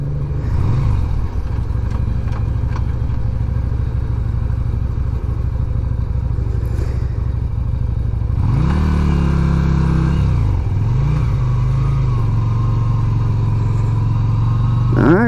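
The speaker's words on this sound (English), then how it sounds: "Bike seems to be running okay so far." Riding a 1988 Yamaha Virago 250 motorcycle after a carburetor install, the small V-twin drones steadily, then revs up through a shift around the middle before settling back, close and continuous with wind rumble.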